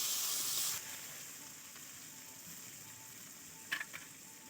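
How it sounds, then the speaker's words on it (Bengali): Chopped onion and green chili frying together in a pan on a traditional clay stove, giving a soft, continuous sizzle that is a little louder at first, with a couple of faint clinks near the end. "পেঁয়াজ কুচি কাঁচা লঙ্কা কুচি দিয়ে একসঙ্গে ভাজবো"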